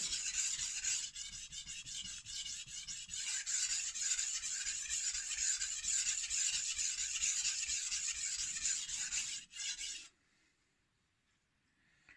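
A knife is sharpened on a Naniwa Chosera 400 grit whetstone with a continuous gritty scraping of steel on stone for about ten seconds, then stopping abruptly into near silence.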